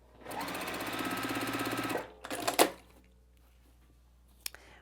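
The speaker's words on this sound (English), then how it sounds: "we're going to stitch that 1/4 of an inch away, making sure our seams lie flat as they go underneath the needle" A sewing machine stitches quilt seams in a quick, even mechanical whirr for about two seconds, followed by a short burst of faster stitching and then near quiet with a final click.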